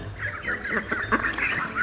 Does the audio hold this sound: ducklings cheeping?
yes